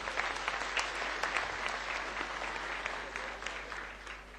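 A crowd at a 2008 award ceremony in Constanța claps for the prize jury, a dense, even patter of many hands that sounds somewhat distant and fades a little toward the end.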